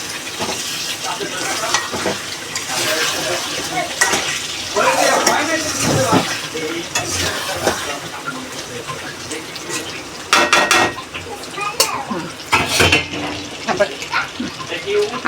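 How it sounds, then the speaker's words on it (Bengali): Chicken curry stirred in a pot gives loud scraping and clattering strokes over a constant sizzle, with bursts of metallic knocks near the end. "খুলে একটু লাড়া দেব।"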